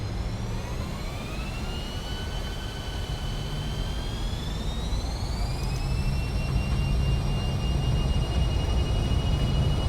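Jet airliner engines in a flight simulator game rise in pitch as they spool up for takeoff. A steady, loud roar and whine build through the clip, with no talk.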